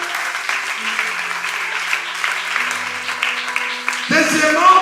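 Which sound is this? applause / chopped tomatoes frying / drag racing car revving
applause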